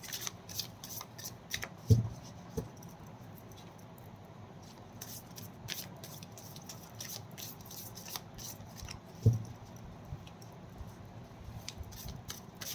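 Tarot cards being shuffled by hand, a run of quick soft riffling flicks and taps with a couple of sharper knocks, close and fairly quiet, with no talking.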